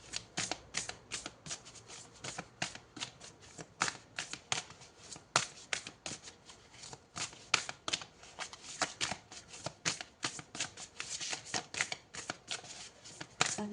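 Oracle cards are shuffled close up in a quiet room, giving a long series of soft, rapid riffling and flicking bursts at an uneven rhythm.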